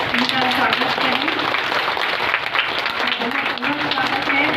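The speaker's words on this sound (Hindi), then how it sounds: "तो आप बहुत बहुत जोरदार तालियों से इनका स्वागत करें" Audience applause welcoming a guest to the stage at a Brahma Kumaris meditation gathering, with steady dense clapping throughout and voices or music mixed underneath.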